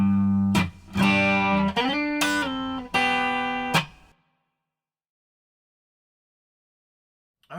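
An electric guitar plays the intro lick of a song, several plucked, ringing notes with slides over about four seconds, followed by silence; no voices.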